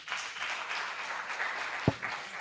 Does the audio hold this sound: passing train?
no